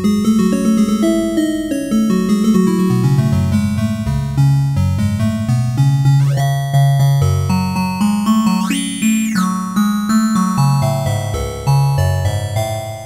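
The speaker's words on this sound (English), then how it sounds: "Or I can turn those into simple bell-like tones that don't ring very long." A homemade digital synthesiser plays a run of short electronic notes that start sharply and die away quickly, played in a fairly quick rhythm, loud and alone with no voices.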